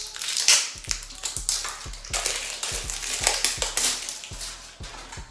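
Plastic wrap being crinkled and torn off a bottle of Jamaican Black Castor Oil, close crackling and crunching in irregular bursts with sharp taps and clicks, continuous for several seconds.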